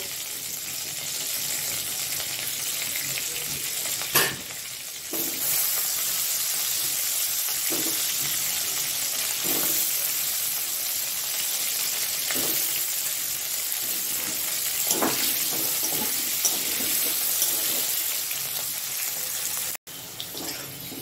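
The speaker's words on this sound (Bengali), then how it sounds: "এবার আমি আলুটা ভালো করে লাল করে ভেজে নেব।" Potatoes frying in mustard oil in a wok, giving a loud, continuous close-up sizzle with a few brief stirring scrapes, heard alone without talk.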